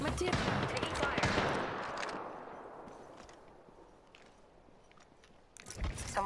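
Gunfire in Apex Legends, a dense burst of loud rapid shots for about two seconds that fades into a rumbling tail, then fresh shots start near the end.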